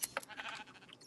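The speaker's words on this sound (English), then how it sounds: "Thankfully, the creeper did not kill the sheep." A sheep in a video game gives a brief, faint bleat, a single short wavering call.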